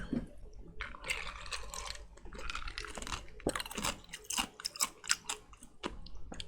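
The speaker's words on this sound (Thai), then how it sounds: "เอามาเคี้ยวสักอันสิ" Crumbly, soft ice from an ice maker is chewed close to the microphone, giving a run of crisp, irregular crunches and crackles that grow denser and louder toward the end.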